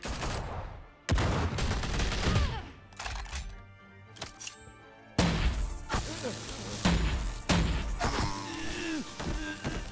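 Taser bullet gunfire in Batman - The Telltale Series, several sharp bursts of rapid shots and impacts separated by short lulls, loud and close, with voices in between.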